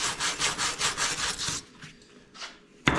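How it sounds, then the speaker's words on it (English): Leather surface being roughed up by hand during a repair, a steady rhythmic back-and-forth rasping scrub of about eight strokes, then a pause with a couple of lighter strokes before scrubbing resumes. "it's roughing that leather up at the same time"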